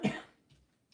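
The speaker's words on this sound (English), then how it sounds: "Make me cough talking about your coughs." A single short cough close to the microphone, followed by faint quiet breathing and small mouth sounds.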